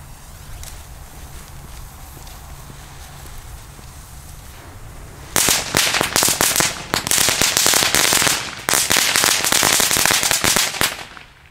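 F1-class firecrackers from a consumer assortment crackle in a rapid, loud, dense string of pops close by after several quiet seconds, pausing briefly before more bursts follow.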